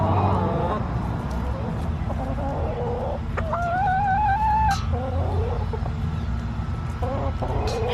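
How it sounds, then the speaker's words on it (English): Backyard chickens out on spring greens cluck and crow close by, with a run of rising, wavering calls standing out over steady murmuring and a constant low background rumble. "I think this is my most vocal chicken."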